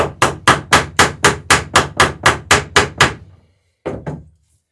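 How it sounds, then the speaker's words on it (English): Rivets hammered into a dory plank against a backing block: about eleven sharp, evenly spaced close blows, then a brief pause and two more strikes, with no talking. "just flatten the rivet head out with the backing block, which it almost does on its own."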